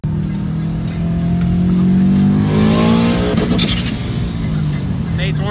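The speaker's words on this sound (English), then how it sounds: "ZL1 just warmed his tires up. It's pretty nasty." A Chevrolet Camaro ZL1 revs hard while warming its tires before a drag race, its loud, rising engine roar holding for several seconds with tire noise underneath, close and continuous.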